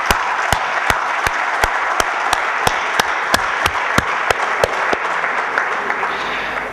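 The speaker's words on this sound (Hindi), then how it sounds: "इन सब के लिए तालियां बजा दें जोर से अपन।" A business conclave audience breaks into loud, sustained applause, a dense wash of many hands with a few sharper claps standing out, fading slightly toward the end.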